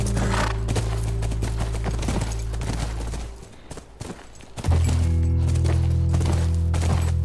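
Rhythmic clip-clop of horse hooves in the video game The Last of Us trots steadily over a low ambient hum, pausing briefly midway before the hoofbeats and droning background return louder.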